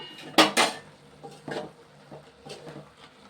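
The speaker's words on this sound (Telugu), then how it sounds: "సరే మూత పెట్టేస్తానండి. సిమ్లో పెట్టాను కదండి, ఒకసారి మూత పెడతాను. ఇప్పుడు మూత పెడతాను." A metal lid set onto a cooking pot on a stove simmering on low heat, giving two sharp clanks close by followed by a few softer knocks and rattles.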